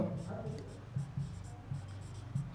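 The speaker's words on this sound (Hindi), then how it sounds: "यहाँ पर मैं लिखूँगा" Pen marks scratch out a flowchart for a program in short strokes and taps, faint and close, with a soft voice murmuring underneath.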